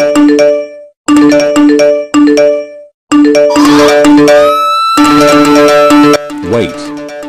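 A rapid chaotic run of loud phone notification tones: three identical chiming bursts, then rising, bending electronic alerts and overlapping ringtone-like dings that pile into a cacophony before a wobbling warble ends it.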